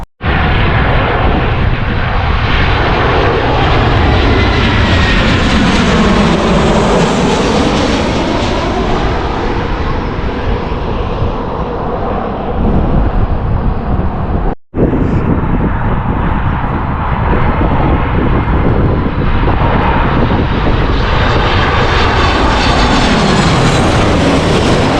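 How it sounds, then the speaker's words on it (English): Ryanair and TUI passenger jets coming in to land at East Midlands Airport, a loud continuous engine roar that swells and shifts in pitch as the aircraft pass, with a brief dropout midway and no speech. "So Ryanair, I don't know where that one came from, and then that TUI has just landed from Malaga Airport."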